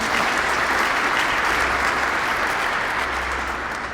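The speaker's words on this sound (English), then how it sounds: "I think a round of applause." Steady, loud applause from an audience at a church consultation meeting fills the whole stretch, a dense continuous wash of clapping with no break and no talk over it.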